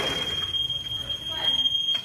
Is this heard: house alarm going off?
yes